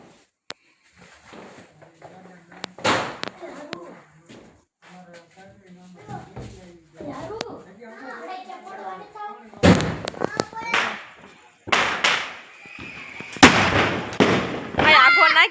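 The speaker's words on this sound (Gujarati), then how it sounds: "બીડી બોમ્બ એટલો ફૂટે ફટફટાટે જ" Bidi bomb firecrackers set off during Diwali celebrations burst in a quick string of sharp, loud cracks, with bursts clustered in the second half of the clip and people talking between the explosions.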